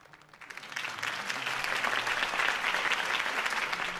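Applause from a crowd swells in after a quiet moment, then holds as steady, dense clapping.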